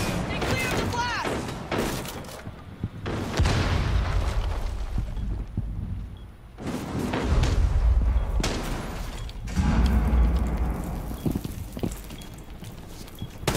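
Explosion blast in Rainbow Six Siege, heavy booming detonations with deep rumbling thuds arriving in several loud surges, mixed with game noise and players talking throughout.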